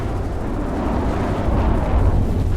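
Frag missiles detonate in the naval combat game From the Depths, producing a loud, continuous low rumble of overlapping blasts that swells slightly toward the end, with no voices.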